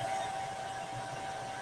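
Hair dryer blowing air over freshly applied ink on a fabric dish towel, a steady close whooshing hiss with a faint constant whine, no talk.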